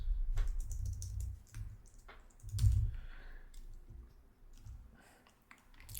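Computer keyboard typing at a desk, irregular bursts of close, crisp key clicks with short pauses and a couple of heavier thumps, quiet and alone.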